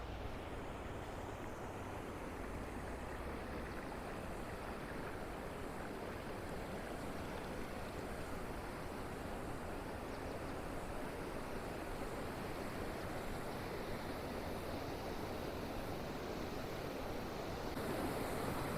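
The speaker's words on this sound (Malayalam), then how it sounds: "ഇവിടെ ഇപ്പോൾ സ്റ്റെപ്പിൽ കൂടെ അല്ല വെള്ളം കയറുന്നത്, നേരെ മുകളിൽ നിന്ന് കുത്തനെ വെള്ളം താഴ്ത്തി കയറുകയാണ്." At Brindavan Garden in Mysore, water pours steeply from above, making a steady, dense roar of rushing water that continues unbroken throughout with no voices.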